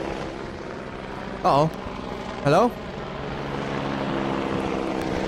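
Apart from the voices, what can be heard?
helicopter in the video game Minecraft (From the Fog)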